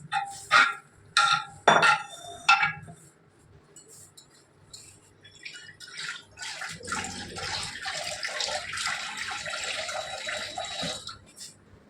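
Water pours into a pot of cooking matar dal with radish, a steady splashing stream following a few sharp clinks and knocks.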